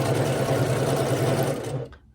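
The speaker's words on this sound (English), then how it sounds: "going to sew these together right along the edge there with a 1/4 inch seam." A sewing machine stitches herringbone quilt pieces along the edge with a quarter-inch seam. It gives a fast, even whirring hum for under two seconds, then slows and stops.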